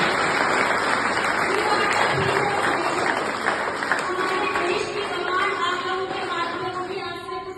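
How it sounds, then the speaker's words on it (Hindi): An audience at an Independence Day event claps together in sustained, steady applause for several seconds, a dense even patter with faint voices underneath. "अपने लिए एक बार तालियां बजाएं"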